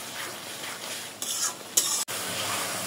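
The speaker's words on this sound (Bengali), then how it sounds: "মশলাটা একটু কষায় নিব ধৈর্য ধরে" Spice masala with salt and coriander powder is stirred and fried in a pan for a rohu fish curry with pointed gourd and potato. A constant close sizzle runs under a few brisk scraping strokes and one sharp knock.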